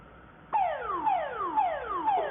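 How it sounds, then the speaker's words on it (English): A facial temperature reading kiosk sounds its alarm: a loud, close electronic tone that starts abruptly, then repeats as falling downward sweeps in a steady rhythm about every half second. "so this alarm is going to sound"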